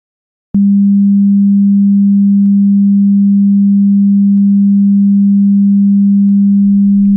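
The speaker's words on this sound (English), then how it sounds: "Let's just do a sine wave." A loud, steady synthesized sine wave tone starts abruptly after a brief silence and holds unchanged at a single low-mid pitch.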